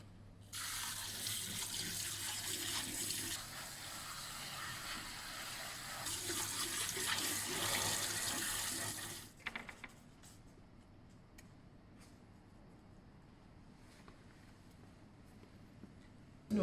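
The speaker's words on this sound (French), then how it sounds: "ces fameuses bardes vont être lavées et rincées fortement" Tap water runs loudly and steadily over scallop beards being rinsed of sand, a close, full gushing spray lasting about nine seconds before it cuts off, leaving faint drips and small clicks in a quiet room.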